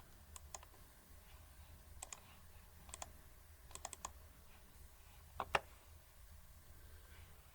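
Faint, sharp clicks of a computer mouse in a quiet room, coming singly and in quick pairs or clusters spread across several seconds.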